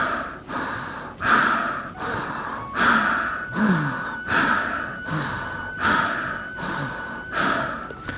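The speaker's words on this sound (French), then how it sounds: "J'expire et j'inspire, j'expire et j'inspire." Rhythmic yoga pranayama breathing, close and loud, with about nine even cycles of audible exhales and inhales through the nose and mouth, each breath a breathy whoosh repeating roughly every second.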